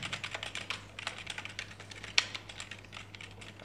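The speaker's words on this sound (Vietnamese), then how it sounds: "Các bạn nghe tiếng bấm của nó nha." Quick, continuous key presses on a K11 non-mechanical gaming keyboard, soft close-up taps in a busy irregular rhythm with one sharper click partway through, heard alone over a low steady hum.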